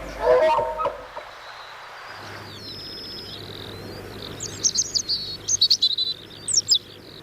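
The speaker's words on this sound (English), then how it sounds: "The robin's sweet-sounding song has its roots in enmity too" A robin sings a series of bright, clear chirping phrases that grow more frequent, with a low hum and a brief rustle at the start.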